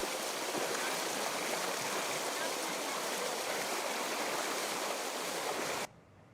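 River water at a crossing in Banggai, Central Sulawesi rushes in a dense, steady broadband roar for about six seconds, then cuts off abruptly to a quieter background.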